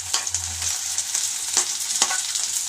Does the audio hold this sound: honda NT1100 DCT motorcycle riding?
no